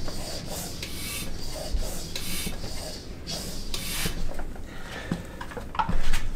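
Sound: pumping air into a pressure bottle

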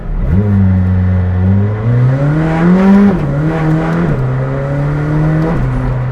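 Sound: McLaren Senna 800 hp engine and gear shifts

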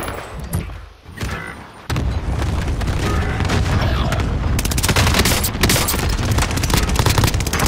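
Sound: gunfire in a video game

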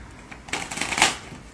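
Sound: shuffling a deck of playing cards

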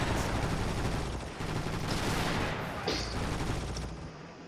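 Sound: machine gun fire in a video game, Far East War

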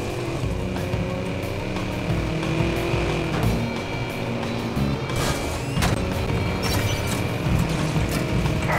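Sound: car accelerating to ram another car in the video game Watch Dogs

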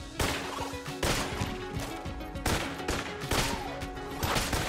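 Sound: rifle gunfire in video game Enter the Gungeon

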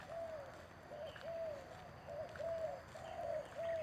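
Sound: birds singing in the morning

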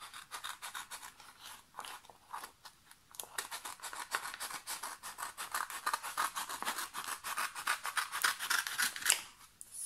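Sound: scissors cutting diamond painting foil

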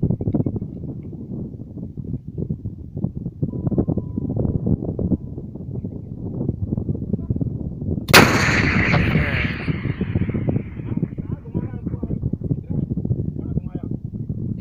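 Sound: Carl Gustaf 84mm recoilless rifle firing

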